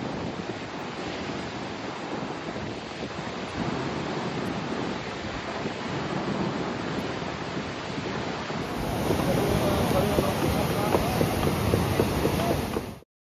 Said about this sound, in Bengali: মা আর টিকলু বসে বসে সমুদ্র দেখছে।